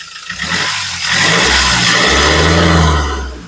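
A 2016 Mahindra XUV500 W6 SUV's diesel engine rumbles loudly and rises in pitch as it revs, holding a steady roar before easing slightly at the end.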